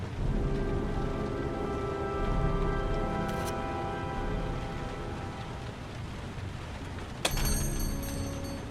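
Heavy rain falls steadily in a scene from the video game Heavy Rain, a dense hiss of drops layered over a low humming tone, broken by a sharp bright tap midway and another near the end.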